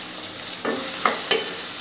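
Onions and curry leaves fry with a little salt in a pan, giving a steady close sizzle with a few sharp scrapes or ticks of stirring, no voices.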